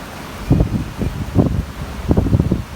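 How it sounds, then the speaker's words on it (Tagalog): Strong wind at Boracay beach in the Philippines buffets the microphone in repeated low rumbling gusts, close and loud, with no voices. "Naririnig niyo ba yung hangin? Sobrang lakas, no?"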